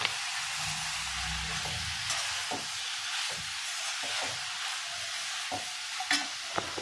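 Fried brinjals go into a pan of half-cooked masala for Chettinad thokku. A low, steady sizzle runs throughout, with light, occasional taps of stirring, fairly quiet and close.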